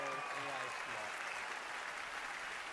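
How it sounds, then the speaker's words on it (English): An audience at the Google I/O keynote gives faint, distant applause after a live demo, a soft wash of clapping with a voice talking over its opening moments. "Round of applause for Nishta."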